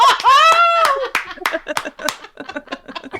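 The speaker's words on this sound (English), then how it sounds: "Okay, round of applause." Applause with scattered hand claps at a small informal holiday get-together, the clapping breaking up into uneven, sparse claps as it goes, with a vocal burst at the start.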